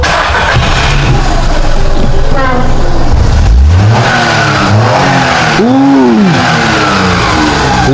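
A VW Polo engine revs hard close by, rising and falling in loud swells over several seconds with a steady rumble underneath, while voices are faintly audible in the background.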